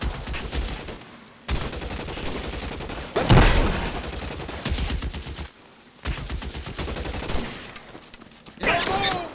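Repeated bursts of gunfire ring out in the LA Noire video game, loud volleys and single shots punctuated by brief pauses, with game character voices shouting over the shooting.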